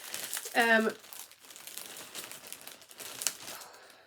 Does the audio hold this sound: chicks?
no